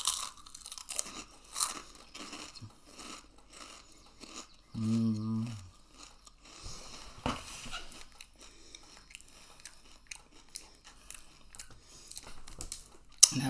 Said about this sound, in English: so all y'all can hear this crunch